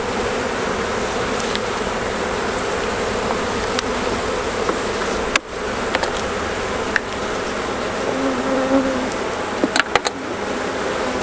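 A dense, steady buzz of many honey bees fills the air close by at an open hive during an inspection, with occasional clicks and knocks breaking through.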